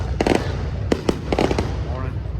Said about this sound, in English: Every bike week, gotta get the fireworks in.